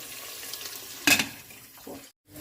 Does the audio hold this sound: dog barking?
no